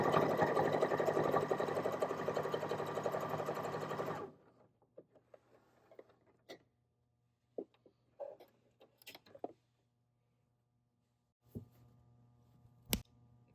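A JOANN beginner sewing machine runs a straight stitch in a loud, fast, even whir for about four seconds, then stops, leaving faint clicks and light handling noises.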